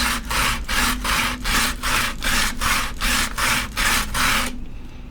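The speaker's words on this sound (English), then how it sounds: "The only bad part about the sanding process is that" Steady rhythmic sanding on a wooden coaster, about a dozen even back-and-forth strokes, close and fairly loud, then it stops.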